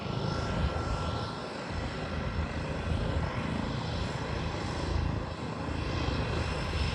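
Cessna Caravan seaplane flying over Victoria harbour in British Columbia, a steady loud turboprop roar sustained across the whole stretch.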